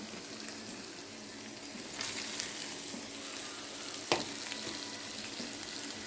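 Ivy gourd curry fries with onions in a pan, giving a steady, even sizzle throughout. There is one brief clink partway through.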